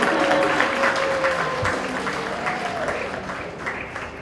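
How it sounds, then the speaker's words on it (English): Audience applause at a Bollywood celebrity party, honouring a woman named Lisa; steady dense clapping from a crowd, fairly close and full, with faint voices mixed underneath. "Big round of applause for Lisa"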